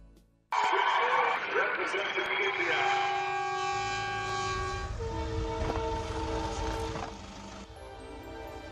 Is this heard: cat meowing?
no